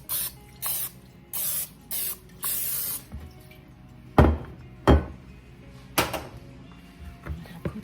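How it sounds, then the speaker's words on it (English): Several short hissing bursts of cooking spray onto a bread pan, then a few sharp knocks and clunks of metal pans being set down nearby. "Spray up my pan here."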